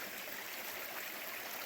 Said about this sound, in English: This is Basin Brook.